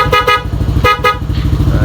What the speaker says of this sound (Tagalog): Sige, busina mo.